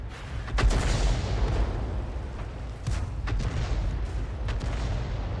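Tank cannon fire in a tank video game, several heavy booming shots with rumbling low-end and lingering roar, steady loud battle ambience between blasts.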